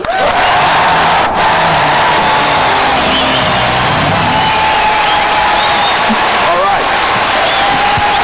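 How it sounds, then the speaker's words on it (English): Live audience at a London comedy show greeting Ben Elton with sustained, dense applause mixed with cheers and whoops, filling the room steadily for the whole stretch. "put your hands together and then apart and then together, because that'll make a clapping noise"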